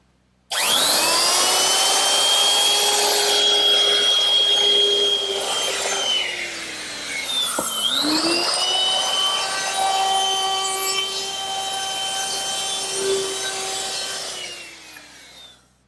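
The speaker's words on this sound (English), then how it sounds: "I want to round over all the edges using my router with a 1/4-inch rounding over bit." A router fitted with a 1/4-inch round-over bit cuts along wooden edges, a loud high whine that starts abruptly, dips in pitch briefly midway under load, then runs steadily before stopping.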